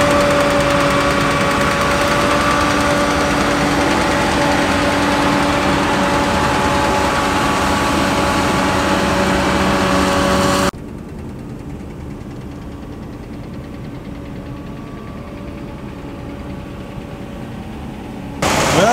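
A semi truck stuck in a farm field runs its engine hard with a loud, steady, rattling diesel roar, then drops abruptly to a quieter idle before rising again at the very end. No one speaks.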